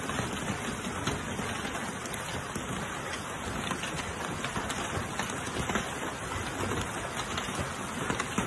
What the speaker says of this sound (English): Rome was hit by unexpected and several hailstorms that covered historic capital with a layer of ice